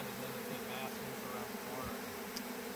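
A dense, continuous buzz of many bees swarming nearby, a steady droning hum with no pauses.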